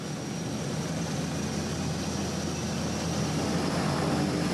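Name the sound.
airplane engine on Arctic expedition flight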